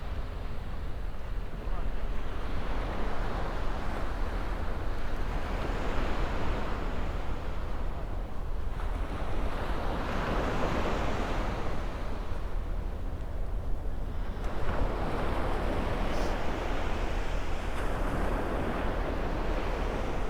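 Waves wash in at the shore in long rolling surges of broad hissing noise, swelling and easing every few seconds, with wind buffeting the microphone throughout.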